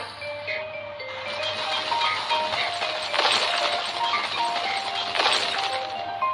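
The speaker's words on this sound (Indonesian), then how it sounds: "Sekarang, ayo kita pecahkan lempengan batu itu." A cartoon excavator fitted with a drill bit breaks up stone slabs, giving steady clinking and cracking with two louder crashing bursts over a constant mechanical hum and light musical tones, with no talking.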